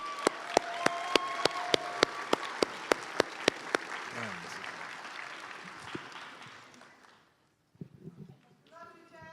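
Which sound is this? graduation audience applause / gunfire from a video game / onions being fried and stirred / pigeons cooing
graduation audience applause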